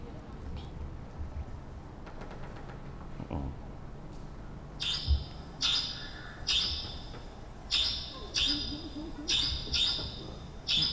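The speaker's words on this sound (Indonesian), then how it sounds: "Ini suara burung cendet." Long-tailed shrike (burung cendet) calls played back, a series of sharp, repeated harsh notes in uneven bursts over steady background murmur, moderately loud.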